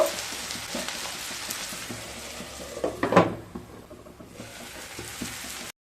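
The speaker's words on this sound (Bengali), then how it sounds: "আবারও নেড়ে নিচ্ছি। নেড়ে নিয়ে লো স্টিমে ঢাকা দিয়ে পেঁয়াজ আর টমেটোগুলোকে ভালোভাবে হতে দেব।" Onions and tomatoes sizzle steadily in a pan, with a brief scraping burst of stirring midway, close and alone.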